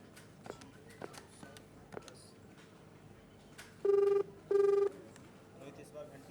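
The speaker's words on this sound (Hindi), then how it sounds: "रोहित, इस बार घंटी तो जा रही है" A mobile phone call to a number just dialed produces two clear, loud ringback tone bursts in a row, each about a third of a second long, following a few scattered quiet taps and clicks.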